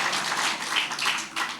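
A church congregation claps along in a long round of applause, a steady, moderately loud patter of many hands without voices.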